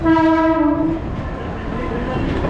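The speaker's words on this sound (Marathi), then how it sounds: "जसं आम्ही स्टेशनवर येऊन पोहोचलो तसंच ट्रेनने सुद्धा एंट्री मारली" A train pulls into a station with a loud, close horn blast lasting about a second, followed by a steady rumbling of rolling carriages.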